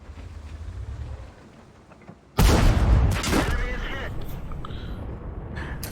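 A single heavy tank cannon shot in World of Tanks, a sudden loud boom with a rolling tail that fades into game noise, following quieter ambience.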